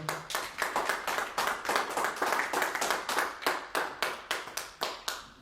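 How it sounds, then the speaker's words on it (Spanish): A church congregation claps in unison for the Lord, a strong, regular beat of sharp synchronized claps repeating steadily at close range without pause. "Denle un aplauso fuerte al Señor"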